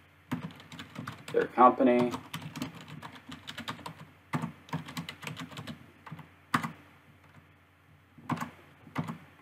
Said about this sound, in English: You type in their full name.